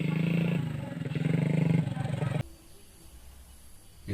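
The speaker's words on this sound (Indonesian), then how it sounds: "Aya motor." A motorcycle engine drones close by with a steady, loud rumbling tone for a couple of seconds, then cuts off abruptly, leaving faint background hiss with a brief noise at the end.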